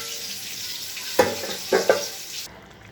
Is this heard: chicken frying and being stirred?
yes